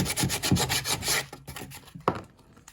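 Close hand sanding of leftover fleece on a car audio center console, a series of quick rasping rubs that rise and fade, then a single sharper scrape near the end.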